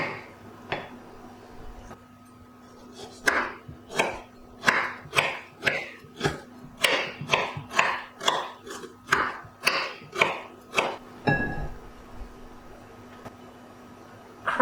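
Shallots crushed for Tom Kha Gai, a Thai chicken and coconut soup: a run of about eighteen sharp, evenly paced knocks on a board, close and clear, with quiet gaps before and after.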